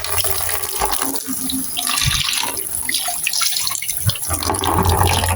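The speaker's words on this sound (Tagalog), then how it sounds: "Lalagyan ko ng tubig para paliguan." Water pours into a drain pan, filling it for a bath, a continuous close splashing gush with uneven surges and a few sharper splashes.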